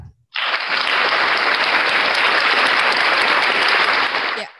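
Webinar audience applause for a nursing speaker, a sudden burst of steady dense clapping that holds loud for about four seconds, then cuts off.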